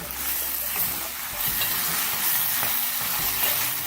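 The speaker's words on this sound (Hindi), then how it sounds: "चिकन को हमने प्याज और जिंजर गार्लिक पेस्ट में थोड़ा सा फ्राई किया है" Chicken fries in onion and ginger garlic paste, a close, steady sizzle broken by a few scraping stirs of the spoon, with no talking.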